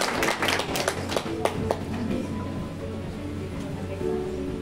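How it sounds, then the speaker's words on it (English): An audience at a school association general assembly gives brief, scattered applause that starts fairly loud and fades within a couple of seconds into quiet room murmur. "A round of applause, please."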